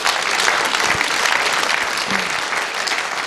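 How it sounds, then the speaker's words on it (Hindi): An audience at a motivational gathering breaks into loud, sustained applause, many hands clapping together in a thick, even roar with a brief shout or voice surfacing midway. "मैं चाहूंगा एक बार कि जिन लोगों ने भी ड्रीम पूरे किए हैं उनके लिए एक बार जबरदस्त तालियां होनी चाहिए।"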